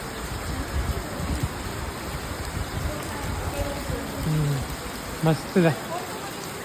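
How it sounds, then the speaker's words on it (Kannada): Heavy rain pours steadily at a temple, a broad wash of sound throughout, while a person speaks briefly near the end. "ಮಳೆ ತುಂಬ ಚೆನ್ನಾಗಿ ಬರ್ತಾ ಇದೆ"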